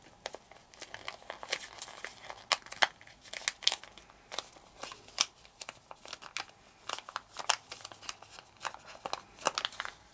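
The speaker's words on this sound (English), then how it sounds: "So make the fold, pinch it, and flatten." Origami paper folded, pinched and flattened while shaping a puffer fish, with quiet, close crinkles and crisp creasing snaps coming in irregular bursts.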